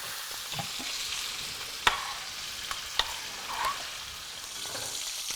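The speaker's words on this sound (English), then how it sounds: "cook them for a couple of minutes on each side so you brown all 6 sides" Beef short ribs browning in a hot pan, a steady soft sizzle broken by a few sharp spits and pops as the meat sears, close by with no voices.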